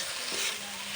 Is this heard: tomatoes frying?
yes